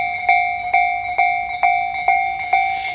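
Tobu Railway 5000-series train rolling past a level crossing in Kasukabe, a steady ringing crossing bell with regular chimes over a low rumble, close and loud, no talking.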